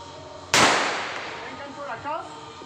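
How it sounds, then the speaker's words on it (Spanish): A single sharp shot from a traumatic pistol firing a Rubberball round at a mannequin cracks loudly nearby, then rings out and fades, followed by faint rustling. "Voy ahora a disparar con Rubberball al maniquí"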